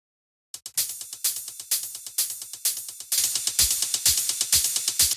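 Crisp, rapid techno hi-hat ticks play in a tight, steady rhythm with occasional louder open hits and a low kick underneath, sounding flat and dry without group processing.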